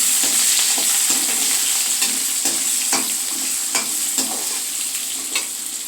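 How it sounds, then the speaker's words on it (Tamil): Steady crackling sizzle of mustard and fenugreek seeds popping in hot sesame oil, with occasional sharper pops and a constant bright hiss throughout. "மறுபடியும் 2 ஸ்பூன் நல்லெண்ணெய் ஊற்றிட்டு கடுகு வெந்தயத்தை தாளிச்சிடலாம்"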